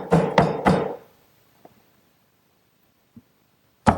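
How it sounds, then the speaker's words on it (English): A 3/4 inch chisel chopping out mortise corners in wood: three quick, hard close strikes, then quiet with a couple of faint taps and one final sharp blow. "And I'll chisel out the remaining corners."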